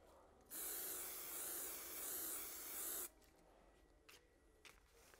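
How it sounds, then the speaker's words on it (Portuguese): Aerosol spray hissing onto paper and a lampshade in one steady, fairly loud burst of about two and a half seconds, followed by faint light handling sounds. "Vamos também passar o spray."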